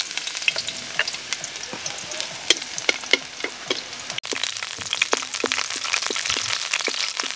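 Garlic sizzles in hot oil in a pan, cooking for adobong takway. The frying is crackly and steady, with frequent light clinks and scrapes from stirring throughout.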